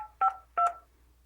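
Keypad tones from an Alcatel-Lucent ALE-400 desk phone being pressed to enter a voicemail password, two short clear beeps in a row in a quiet room.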